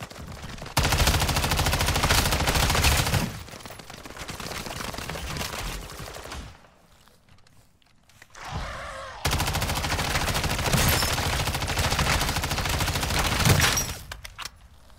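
Automatic weapon fire in Call of Duty Modern Warfare 3 open-world zombies mode, long loud bursts of rapid gunfire broken by a short quiet pause, then another sustained volley.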